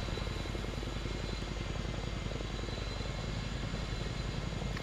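A Chinook helicopter in the video game ArmA 3 drones steadily with a dense, unbroken rotor and engine roar that holds at an even level throughout, with no voices.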